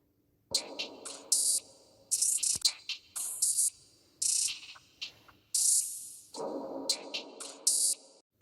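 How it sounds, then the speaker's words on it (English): Hi-hat loop with an ambient effect, quiet crisp metallic ticks in uneven bursts with washy midrange swells behind them, repeating over several seconds without voices. "the next thing I added was this hi-hat loop,"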